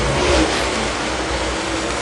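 A World of Outlaws dirt late model race car engine roaring at high revs during a heat race, a dense, loud and steady engine note with no voices over it.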